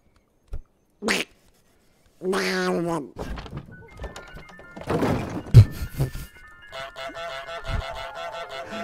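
In a video game, an object falls to the floor with a couple of short, soft thunks, followed by busier game sounds and tonal effects that fill the rest of the scene.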